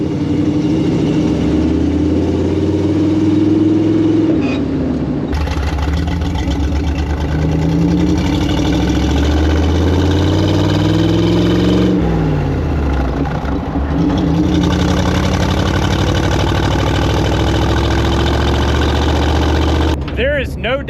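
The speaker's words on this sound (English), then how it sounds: "There is no doubt it sounds like an old pickup truck" An old Dodge Power Wagon pickup truck with a custom exhaust runs loud and close, a rough low engine rumble with revs rising and falling across the clip and a couple of brief breaks.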